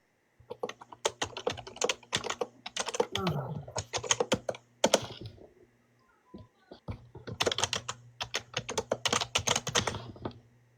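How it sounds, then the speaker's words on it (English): Rapid clattering of computer keys in bursts, close and crisp, with a short pause midway before the typing resumes. "Are you typing?"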